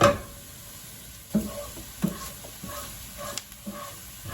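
Flour mixture sautéing in a pan for a heart-healthy lentil stroganoff, a quiet background sizzle broken by a few soft spoon scrapes and taps against the pan.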